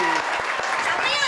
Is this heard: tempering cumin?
no